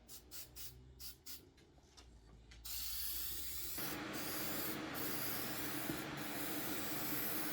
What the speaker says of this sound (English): spray it. We're just gonna paint this up.